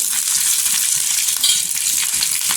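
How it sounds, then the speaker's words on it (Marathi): Green chilies roasting in a little oil on a hot griddle give a close, continuous crackling sizzle with tiny pops throughout, steady and fairly loud, with no voices. "तेल टाकल्यामुळे ना लवकर मिरची भाजते"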